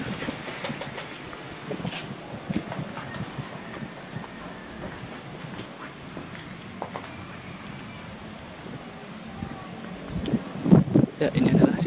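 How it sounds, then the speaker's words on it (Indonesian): Strong wind blows steadily outdoors at a two-storey hillside house in Bogor facing Mount Salak, a continuous rumbling rush across the microphone that swells louder toward the end, with a voice briefly audible. "anginnya cukup kencang."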